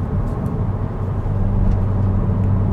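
A Hyundai i20N hot hatch drones steadily while driving, a low rumbling engine and road noise held at even throttle, close and continuous without talk.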